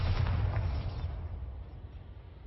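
Bombarda explosion spell in the video game Hogwarts Legacy: a loud, deep blast at the start that rumbles and slowly decays into a fading low roar over a couple of seconds, with no voices.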